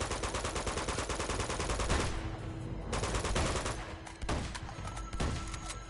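Enemy soldiers firing guns at the player in Uncharted 2: dense, sustained bursts of automatic gunfire crackle loudly and continuously, with a few short pauses and sharp single reports breaking through the rattling volleys.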